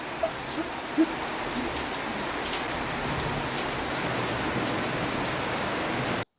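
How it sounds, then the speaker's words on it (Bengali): Steady monsoon rain falls outside in a continuous broadband hiss, with a few faint drips or knocks early on, moderately loud and unbroken for the whole stretch. "দেখো কত সুন্দর বৃষ্টি হচ্ছে বাইরে"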